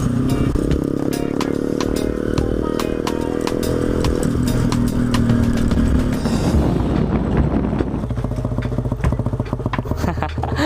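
Motorcycles revving and pulling away onto a rough trail near San Miguel, Echague, Isabela, a loud close engine roar shifting pitch as they accelerate, with rattles and crunching over the uneven ground.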